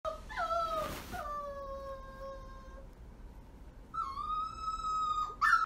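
A female puppy whines and howls in her crate, with long rising and falling wails broken by a short pause, close and fairly loud with no talk.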